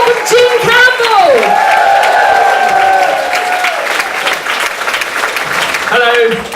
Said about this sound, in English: whooping, cheering